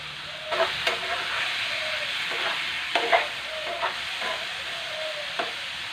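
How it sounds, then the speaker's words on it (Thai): Dory fish stir-frying with holy basil in a pan, a steady close sizzle with repeated clinks and scrapes of the spatula at irregular intervals. "เราก็จะมาผัดให้สุกนะคะผัดตั้งไว้จนสุกค่ะ"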